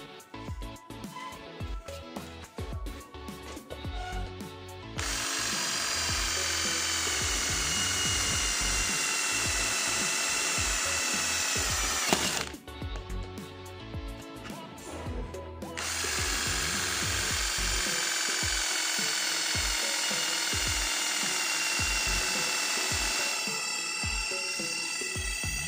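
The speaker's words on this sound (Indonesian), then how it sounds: "Menggunakan mata bor Stanley lancar ya, nggak ada masalah." A Deli DL600012 12V cordless drill fitted with a Stanley bit whines steadily in two long runs of drilling, each lasting several seconds, separated by a pause with faint handling clatter.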